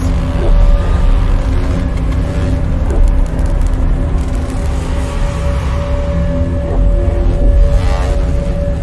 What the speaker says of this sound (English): The sound you're hearing is a light black hole banging on space each time it gets close.